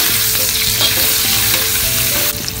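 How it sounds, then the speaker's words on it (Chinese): Cured pork sizzles steadily in a shallow pool of hot oil in a wok while being stir-fried, with a continuous close, loud crackle and occasional scrape of the spatula, no voices. "给它翻炒一下"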